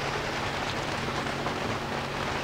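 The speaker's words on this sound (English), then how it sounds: "It's raining." Rain falls in a thunderstorm around a boat, a steady, even hiss of drops with no distinct thunderclap and no voices.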